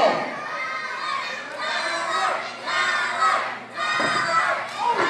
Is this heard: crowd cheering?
yes